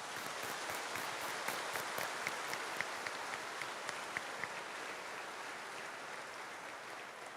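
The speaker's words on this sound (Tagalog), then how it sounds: "pasalubungan tayo pong masikan a palakpak" A congregation applauds at a priestly ordination rite in a church, a fairly quiet, steady wash of many hands clapping with a few crisper claps early on, gradually thinning toward the end.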